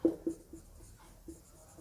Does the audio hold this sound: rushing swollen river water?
no